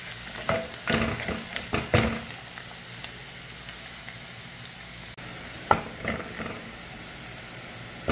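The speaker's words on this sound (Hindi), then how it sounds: "तो अब मैं इसमें लहसुन डाल दूंगी सारा, इसको भी हल्का सा फ्राई कर देंगे" Chopped garlic fries lightly in a pan of oil for a goat-meat masala curry. A steady close sizzle runs throughout, with stirring scrapes bunched in the first two seconds and again around six seconds.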